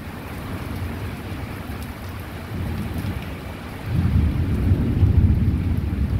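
Heavy rain pouring steadily in a violent thunderstorm, with a deep rumble of thunder building and swelling louder toward the end.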